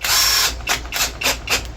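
A power drill drives screws into wooden edge pieces, one long whirring run followed by three or four short, close bursts of the motor in an uneven rhythm, with no voices.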